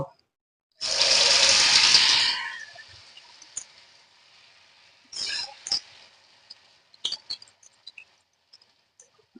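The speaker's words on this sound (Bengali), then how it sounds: "এবার আমি একটা একটা করে তেলে দিয়ে দেব।" Cabbage pakora fritters go into hot oil with a sudden loud hissing burst that fades into a quiet bubbling fry, followed by scattered clinks and short bursts of sizzle.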